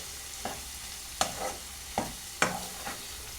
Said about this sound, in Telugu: ఒకసారి కలుపుకున్నాను.